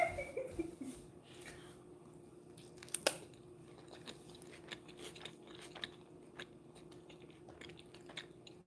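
Close, crunchy chewing of a homemade vegetable dish with cream, with irregular bites and wet mastication sounds running throughout and a few sharper crunches, heard alone without talk.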